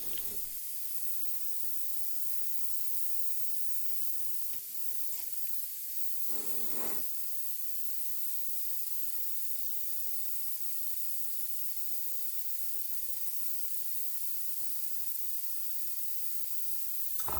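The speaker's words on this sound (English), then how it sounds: "And I started to use the airbrush." An airbrush fed by a Timbertech ABPST08 air compressor with tank sprays air in a continuous, even hiss that holds steady close by, broken only by a few brief faint knocks.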